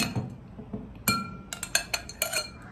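A spoon or utensil clinks lightly against a glass or bowl while ingredients are mixed, giving a series of bright, close taps that quicken into a cluster near the end.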